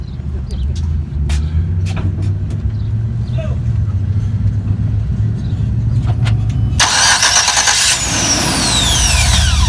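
A truck with a suspected starter fault cranks and fires up: steady starter churning with mechanical clicks, then the engine catches and revs into a loud, brighter roar, recorded close, with people talking briefly.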